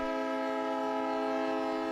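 A diesel locomotive pulling a decorated Christmas train on a heritage railroad holds a steady, loud, harmonic drone with strong sustained tones, continuous and alone.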